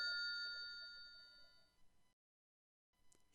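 A telephone bell rings steadily for about two seconds, then cuts to silence before a faint clatter returns at the end.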